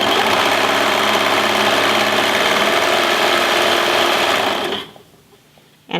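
A sewing machine, likely a serger, trims about half an inch off the edge of peplum fabric with its blade. The loud, continuous motor whirr runs steadily for nearly five seconds, then cuts off abruptly.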